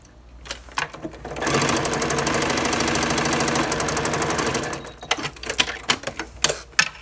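A sewing machine tacks down the side of a reversible fabric bib in one rapid, steady stitching burst of a few seconds, with scattered handling clicks and taps before and after.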